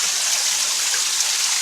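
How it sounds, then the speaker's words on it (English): Water trickling and splashing like a small waterfall at the debris-jammed end of an old tunnel, a steady bright hiss of running water with no voices. "And the water, like a little waterfall right there."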